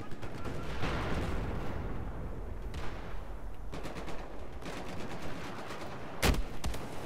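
Gunfire in the video game Battlefield 4, rapid distant-sounding bursts and single shots over a rumbling battlefield backdrop, ending with one sharp loud crack.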